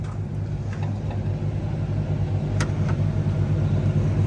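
A Toyota 1.5JZ engine in a widebody show car struggles to start, a steady low rumbling drone with a few faint clicks on top, close and continuous with no talking.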